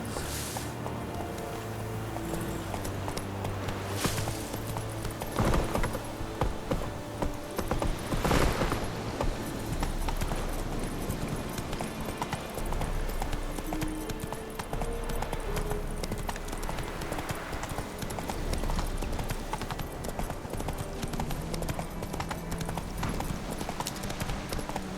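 Roach, a horse in The Witcher 3: Wild Hunt, gallops with steady, rhythmic clip-clopping hooves that run the full length, mixed with game ambience and music.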